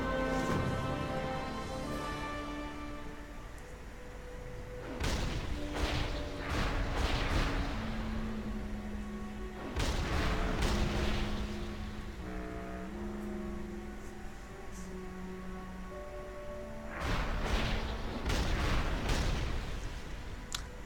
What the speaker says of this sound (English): To be honest, the explosions are a bit underwhelming.